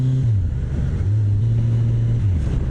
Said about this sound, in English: The exhaust note sounds awesome.